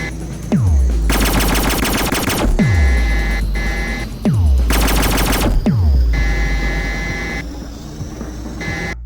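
Repeated bursts of rapid electronic zapping from a video game laser weapon fire in several volleys, each opening with a descending thump, loud and close like sci-fi gunfire.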